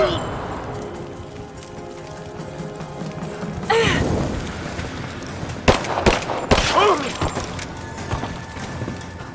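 Gunfire in the Rise of the Tomb Raider video game: bursts of sharp shots and rapid automatic fire in the second half, loud and close, amid rain-like ambience, with voices shouting in between.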